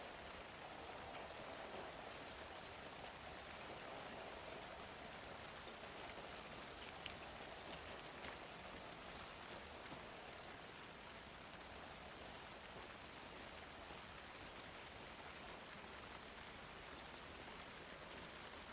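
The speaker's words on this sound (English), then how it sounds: "Oh boy, it's raining." Steady rain in Alan Wake 2 hisses evenly throughout, a dense wash of falling drops with no pauses and no voices.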